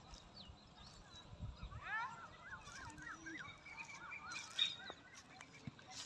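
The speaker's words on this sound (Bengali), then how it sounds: "আর নানা রকম পাখির কিচিরমিচির।" Assorted birds chirp and call beside a large countryside oxbow lake in the late afternoon, with scattered moderate tweets over soft outdoor ambience.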